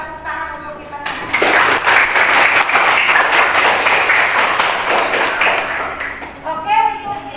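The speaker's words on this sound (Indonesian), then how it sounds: "Tepuk tangan untuk kita semua" A class of students breaks into dense applause at a teacher's request, sustained for about five seconds, with a voice speaking just before and after.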